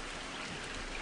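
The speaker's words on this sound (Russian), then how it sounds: "От этого бесконечного дождя все насквозь пропитано сыростью." Steady, dense rain pours down in the Montague's Mount video game, a continuous close hiss of drops on surfaces that fills the whole moment with no voices.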